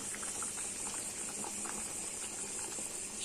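Hot water poured over fava beans sautéed in a pot, giving a steady bubbling, boiling wash that stays even and close throughout with no talk.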